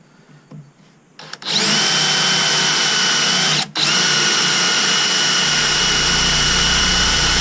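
A power drill spins up and runs steadily at high pitch, dips briefly, then keeps whining loudly as it bores a hole through wood.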